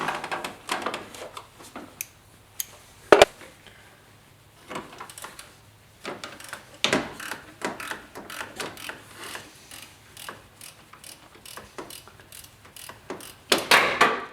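Ratcheting clicks from a wrench loosening an alternator bolt on a 2008 Chevy Colorado, coming in quick bursts with sharp metallic knocks and clanks between them, close by and fairly loud.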